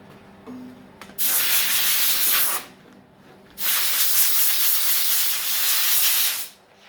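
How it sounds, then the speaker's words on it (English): Grinding off a weld during a car restoration, two loud sustained bursts of harsh abrasive grinding close by, separated by a brief quieter pause. "I'll just go around it, grind it off, and we can fill over that then"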